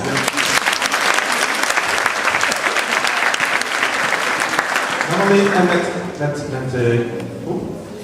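An audience applauds a growing choir at a choir festival, a dense round of clapping that fades near the end as a voice begins speaking over it.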